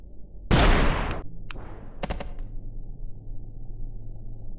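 Gunshots from the video game Melon Playground: one loud, sharp shot followed by a few quicker, lighter cracks and a fading tail over a faint background hum.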